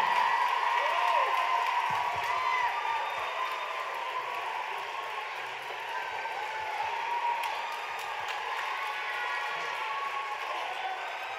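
Audience applause and cheering at a dance competition gala for the newly named national senior outstanding dancer, a steady wash of clapping and crowd noise that holds at an even level throughout.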